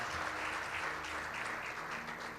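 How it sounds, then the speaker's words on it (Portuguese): A church congregation claps steadily and loudly for a couple of seconds, a dense wash of applause filling the room. "Quem pode dar um aplauso bem forte ao Senhor?"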